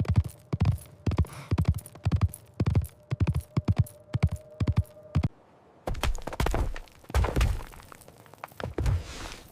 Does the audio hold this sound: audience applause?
no